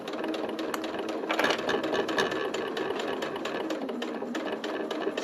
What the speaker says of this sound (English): So now you need to have your zipper foot on. And you're just going to come forwards. I'm going to do a little bit of back stitching.